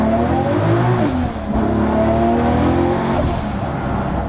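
Engine of a modified Toyota Supra drift car revs loud and close, rising and falling through quick gear shifts with a brief dip in the middle.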